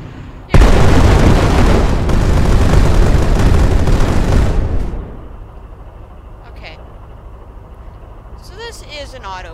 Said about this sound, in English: This is an autocannon.